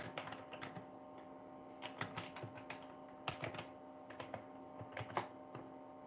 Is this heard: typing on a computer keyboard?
yes